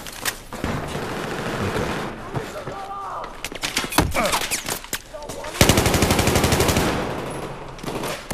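Gunfire in a Battlefield 4 video game firefight, rapid automatic bursts and scattered shots with booms, loudest near the end, with a player speaking briefly.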